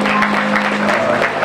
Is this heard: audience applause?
yes